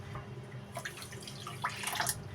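Water poured into sugar in a pan while making syrup for Turkish baklava, a soft splashing trickle building over a couple of seconds, close by and moderately loud with no talking.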